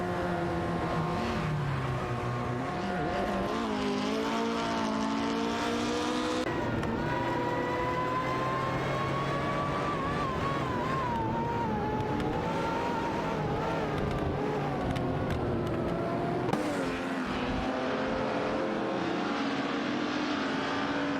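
Several race cars battle closely on track in a racing video game, their engines droning and shifting pitch continuously and loudly throughout, with music-like tonal layers and no speech.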